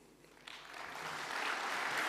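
An audience applauds a speaker at a Python tech talk on semantic search, the clapping swelling from sparse to a full, steady round.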